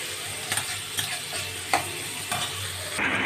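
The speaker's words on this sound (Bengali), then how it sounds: "যদি কুমড়ো থাকে তাহলে উচ্ছে দিয়েই কুমড়োটাকে ভাজা করি।" Bitter gourd and pumpkin fry in a pan with a steady, dense sizzle, broken by regular scraping strokes of a spatula stirring them about twice a second, up close with no talking.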